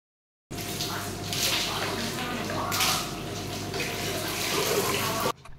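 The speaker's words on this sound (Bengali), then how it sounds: "এরপরে এই যে একটা সালফেট ফ্রি শ্যাম্পু দিয়ে আমি চুলটাকে ওয়াশ করে নিচ্ছি।" Steady running water pours throughout while hair is being washed with sulfate-free shampoo, a continuous close hiss like a tap or shower that stops abruptly at the end.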